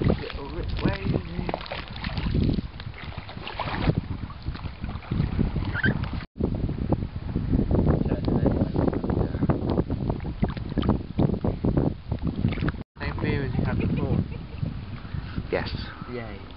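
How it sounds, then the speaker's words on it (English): A canoe paddled on slightly wavy Lake Windermere, with splashing water and steady wind noise buffeting the microphone throughout, while voices talk intermittently. "Or no, not a dinghy, a canoe."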